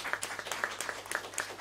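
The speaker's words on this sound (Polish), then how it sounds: "pani dyrektor Ewie Maślance oraz wielkie brawa" Scattered, fairly quiet clapping from an audience at a folk music album-of-the-year award concert, individual claps distinct and brief.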